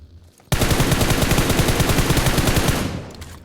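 Sustained rapid automatic gunfire in the video game PUBG Mobile, loud and close, a fast steady burst lasting nearly three seconds after a quiet start, then tapering off.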